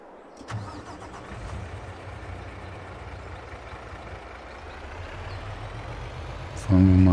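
A tractor-type farm vehicle in Farming Simulator 22 starts up and drives off, a steady mid-pitched engine drone running throughout, swelling louder and heavier near the end.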